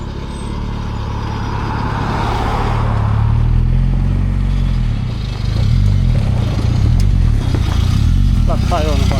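A motorcycle engine fitted with a new turbo runs loud and close, its deep drone rising and falling through revs over most of the stretch, with a voice heard over it.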